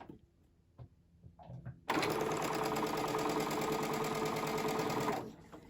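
Quilt block seam being stitched at a quarter-inch allowance on a sewing machine: after a few soft handling sounds, a loud, steady, fast motor whir with rapid needle chatter runs for about three seconds, then stops.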